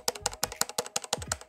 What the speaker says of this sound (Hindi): तो मैकेनिकल कीबोर्ड है